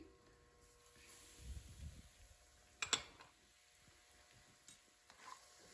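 Kasuri methi sizzling quietly in hot oil with cashews and cardamom, a soft steady frying hiss with a few sharper crackles and stirring scrapes, faint and close.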